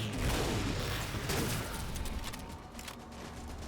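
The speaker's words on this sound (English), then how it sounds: "Since I've got the incineration cannon, these next few kills are going to be a little bit easier." Incineration cannon fired in Halo 4 Spartan Ops, a dense roaring blast with a booming low rumble and crackling burst that fills the whole moment, loud and close.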